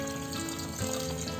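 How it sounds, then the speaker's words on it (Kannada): Water pouring into a pot of rice and vegetables for pulao, a brief continuous splashing gush, close and fairly loud, with no voices. "ಇದಕ್ಕೆ 4 ಲೋಟ ನೀರನ್ನು ಹೊಡಿಬೇಕು"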